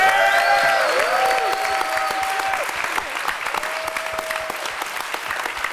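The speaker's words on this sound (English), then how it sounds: "can we get a big round of applause for the big guy himself" Applause from the audience at the closing ceremonies of the Beyond HOPE hacker conference, a dense, loud sustained clapping that holds steady across the whole stretch, with some tonal sound faintly layered over it early on.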